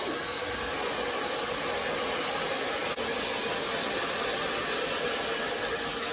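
A hair dryer blowing on freshly dyed pink hair, a loud, steady, close whooshing roar that runs without a break.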